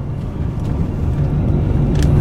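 A 2018 DAF XF 460hp truck engine while driving, a loud, steady low rumble with a throbbing undertone, close and continuous without talk.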